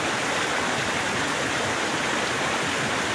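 A jungle waterfall roars as a steady, broadband rush of falling water, constant and fairly loud with no gaps.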